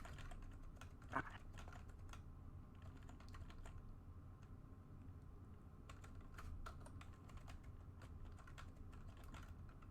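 Keys clatter in quick, irregular bursts of typing on a keyboard, soft and close in a quiet room.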